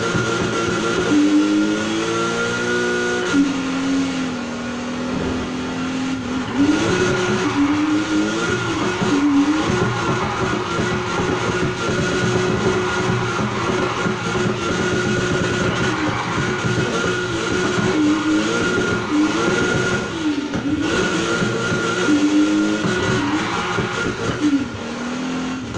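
Volkswagen Golf GTI '76 in the racing game Need for Speed Heat, its engine droning steadily with rising and falling revs and pitch sweeps as the car is drifted, continuous and close throughout.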